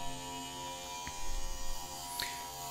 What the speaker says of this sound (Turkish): Ama bir elinizde tıraş makinesi olduğunu da gösteriyor. Şimdi denemesini yapalım.